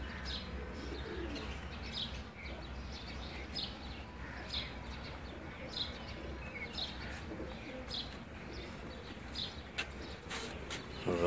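Pigeons at a rooftop loft give soft, repeated coos mixed with scattered chirps and occasional wing flutters, a moderate, continuous bird chorus with no talking.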